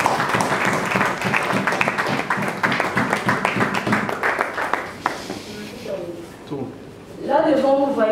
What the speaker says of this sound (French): Accueillons-les avec des applaudissements